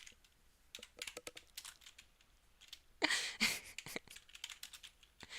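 Irregular typing on a computer keyboard during Unity UI work, with bursts of clicks and a louder flurry of keystrokes midway, close and with no one talking.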